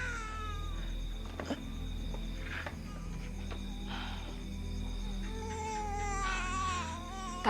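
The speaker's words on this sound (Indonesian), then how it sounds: "Suara bayi, Bu." A thin, wavering cry like a baby wailing, heard in a quiet house far from neighbours, rising and falling in several drawn-out bursts over a steady low hum.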